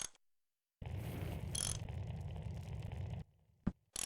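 A wrench ratchets on a motorbike in Full Throttle Remastered, a close, gritty mechanical clicking burst of a couple of seconds after silence, followed by a brief sharp click.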